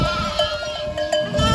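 A flock of sheep bleats repeatedly and close by on a village farm, several overlapping calls rising above a steady background of shuffling livestock.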